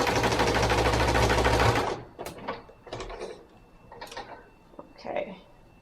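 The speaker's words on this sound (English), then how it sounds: "I'm going to quickly baste that little seam." A sewing machine bastes a seam on a Pikachu plush body in a loud continuous whir that stops abruptly after about two seconds, followed by quiet handling clicks and rustles.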